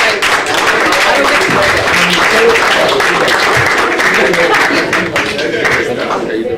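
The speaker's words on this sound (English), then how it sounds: "Please, a round of applause for your team." School debate audience clapping for a team, a loud, sustained round of many hands with crowd murmur and some voices mixed in, fading slightly at the close.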